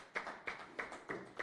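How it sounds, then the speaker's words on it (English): A small audience applauds at an online talk on drug use during the pandemic, the claps coming in sparse, evenly spaced bursts that sound faint and thin rather than like a full crowd. "A round of applause for her."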